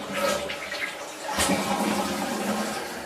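Toilet flush rushes and gurgles throughout, with water swirling and draining at close range and a brief louder surge partway through, no talking over it.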